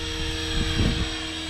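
A 500XT radio-controlled helicopter flies nearby, its rotor and motor making a steady, loud drone with a slight rhythmic pulsing.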